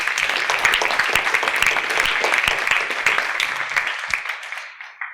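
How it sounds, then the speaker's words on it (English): An audience at an event in Lisbon applauds the team, dense steady clapping from many hands that holds for several seconds, then thins and fades out. "let us begin with a round of applause for the team that brings us together every year"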